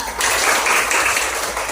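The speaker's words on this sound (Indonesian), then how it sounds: "Oke, tepuk tangannya." Loud, continuous applause from a class of students, many hands clapping freely together in a dense, sustained burst filling the room.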